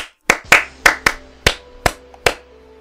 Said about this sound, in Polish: nic nie trzymam, proszę bardzo, mogę klaskać